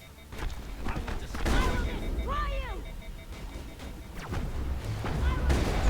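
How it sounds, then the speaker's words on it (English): Rocket launches and explosions rumble during Mass Effect combat, with booming blasts mixed into the game's music and electronic effects. Speech is also present. "Why would you fire a rocket that close to someone?"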